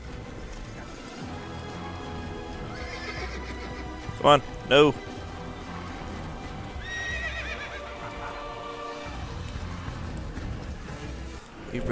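In the video game Assassin's Creed, a horse gives two sharp whinnies in quick succession, with hoofbeats and game ambience running underneath and someone talking over it.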